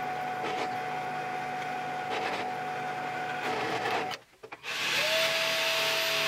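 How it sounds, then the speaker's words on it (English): Power drill boring a 6mm hole in an aluminum bar, a steady motor whine with grinding hiss that briefly cuts out near the end and then spins back up, close and alone. "Now I'm drilling 6mm hole for the cage that I will be making later."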